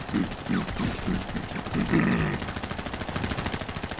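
Rapid gunfire in a GTA and Free Fire video game crossover, a steady stream of repeating shots over dense game noise, with no talking.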